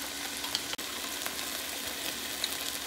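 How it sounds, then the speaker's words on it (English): Lime-marinated fish browns in a hot pan for a Brazilian fish stew, giving a soft, steady sizzle and crackle with a brief clatter partway through. "we're going to add it in and we're going to brown it on one side only for about 1-2 minutes"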